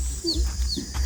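Young chicks being given water cheep and cluck in short, high chirps close by, with a voice and low rumbling background in the mix.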